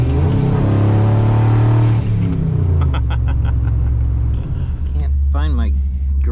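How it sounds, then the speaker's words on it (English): A big single-turbo Ford F150 pickup on a street accelerates hard with a loud, close engine roar and rising pitch through higher shift points. A shift dips the sound midway, turbo whistle carries on, and someone talks over the end. "Those higher shift points, you can definitely hear that turbo whistle a little bit longer."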